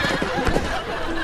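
Brief horse whinny, a short wavering neigh heard over a busy, noisy background with no clear speech.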